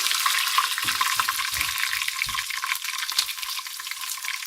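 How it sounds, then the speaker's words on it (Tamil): Mustard seeds and curry leaves splutter in hot oil for a cabbage and Bengal gram curry, a loud, crackling sizzle with rapid pops running unbroken and close by. "எண்ணெயில் கடுகு போட்டு, கடுகு பொரிஞ்சோன்னே கருவேப்பிலை"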